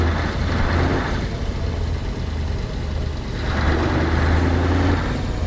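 A Scania truck engine with a closed pipe in Euro Truck Simulator 2 drones steadily at close range, a deep low rumble that swells slightly near the start and again toward the end, with no talking.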